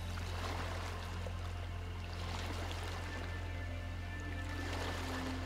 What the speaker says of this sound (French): Il y a à peine quelques vagues qui viennent doucement s'écraser sur la rive